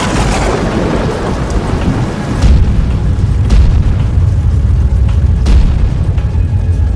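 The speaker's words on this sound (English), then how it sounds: "The sky was thundering and lightning" A thunderstorm with heavy rain hissing throughout and loud thunder booming and rumbling in, deep and close, with repeated cracks and rolls over the steady downpour and no talk.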